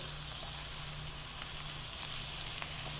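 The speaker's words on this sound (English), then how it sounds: "I'm going to throw a few Portobello mushrooms in there just to finish it off." Rib eye steak and Portobello mushrooms sizzle in a steel pan, a steady, even hiss of frying throughout, fairly quiet and unbroken by voices.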